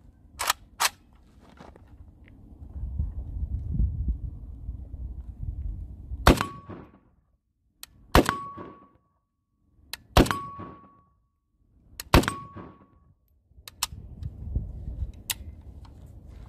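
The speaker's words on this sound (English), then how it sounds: "We're just going to shoot it on steel" Gunshots fired at a steel target during a live fire test: four sharp cracks spaced about two seconds apart, each followed by a short ringing ping of metal, with a couple of fainter cracks around them.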